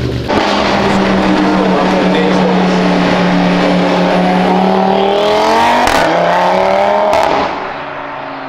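An Audi S3 engine revs hard and steadily, its rising harmonic whine climbing through the gears before easing off near the end; loud and close with no talking over it.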